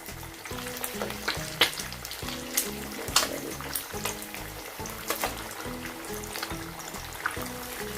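Egg pakoras fry in hot oil with a steady close sizzle, broken by sharp spits and crackles. A low, choppy rhythmic sound runs underneath throughout, and no one speaks.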